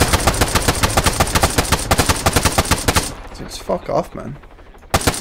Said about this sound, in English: Okay, I was simply shooting at you in anger.